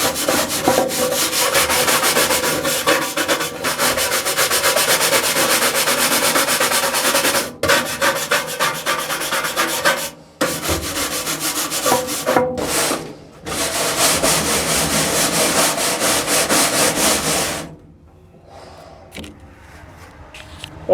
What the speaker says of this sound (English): I got a couple of steel brushes here, and you're going to get to see me scrub for a bit